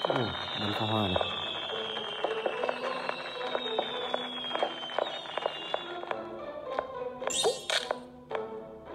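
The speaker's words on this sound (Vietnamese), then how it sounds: "Bắn pháo hoa này." Fireworks launch in a mobile horror video game: rising whistles and sharp popping bursts crackle in quick succession, fairly close, with a burst of bright crackle near the end.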